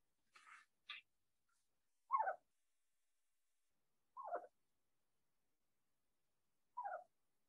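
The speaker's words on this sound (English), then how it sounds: "these owls actually do not screech at all. They do this little trill noise." A screech owl gives several soft, short wavering trills spaced a second or two apart, faint and close in an otherwise quiet space.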